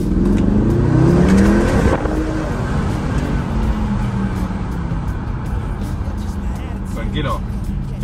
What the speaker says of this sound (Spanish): Y el petardeo. No sé si se apreciará.